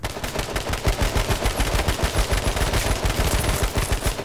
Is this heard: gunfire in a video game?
yes